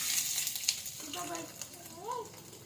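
Ginger going into a pan for ginataang manok: a soft, continuous sizzle and frying crackle heard fairly faintly, with a brief voice or whistling-like tone rising over it partway through.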